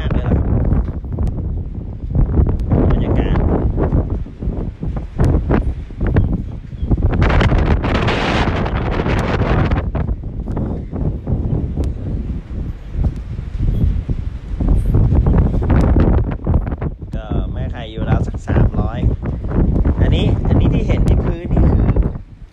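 Strong wind blowing across a farm, loud gusty roaring and buffeting against the microphone, continuous for the whole stretch with surging peaks and rustling, no voices.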